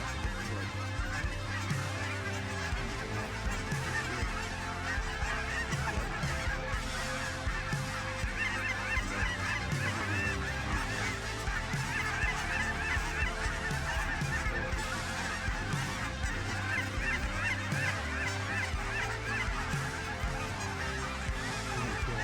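A big flock of geese, around 1,500 to 2,000 birds, comes down into a field, a dense continuous chorus of loud honking that fills the whole stretch with no talk.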